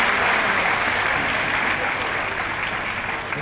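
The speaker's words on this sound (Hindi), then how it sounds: "तालियों की कड़कड़ाहट के साथ हम सब स्वागत" Crowd at a national function on ending untouchability applauding to welcome guests, a thick, sustained wash of clapping that stays loud and eases slightly toward the end.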